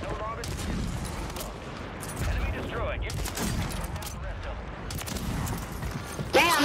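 Gunfire crackles through a Call of Duty Warzone match on Rebirth Island, rapid bursts and sharp shots over steady battle noise, with a person talking throughout.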